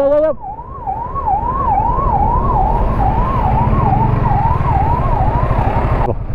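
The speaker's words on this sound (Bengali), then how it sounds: "আগে বাড়া আগে বাড়া অ্যাম্বুলেন্স আছে আগে বাড়া" An ambulance stuck in a traffic jam at the entrance to Bardhaman sounds a loud wailing siren nearby. The tone rises and falls rapidly and steadily for several seconds, with engine rumble underneath, then stops abruptly.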